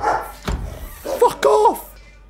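Dog barks in a horror video game, a few sharp yelps and whimpering barks close by, mixed with a player's startled speech.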